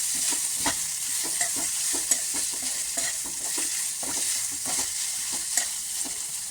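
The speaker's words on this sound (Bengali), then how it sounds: "পেঁয়াজ কুচি, রসুন কুচি, আদা কুচি সব একসঙ্গে দিয়ে দিলাম। দিয়ে ভাজতে থাকি।" Chopped onion, garlic and ginger fry together in a pan, giving a constant close sizzle under a steady run of scraping stirs and small spattering pops, with no voices.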